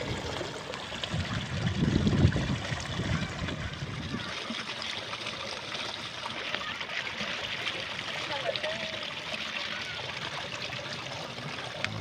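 People wade through a flooded paddy field during rice transplanting, their legs stirring up splashing and trickling water, which is heaviest early on and then settles into a constant gentle wash under the outdoor ambience.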